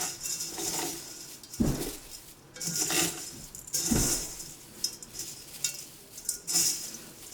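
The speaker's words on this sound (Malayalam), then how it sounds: "ഇത് കൈ കൊണ്ടൊന്ന് പൊടിച്ചെടുക്കാം." A fried snack mixture for mixture mittai is crushed by hand in a metal vessel, giving close, soft crunching and scraping with several sharper clinks of the vessel at irregular intervals, and no talk.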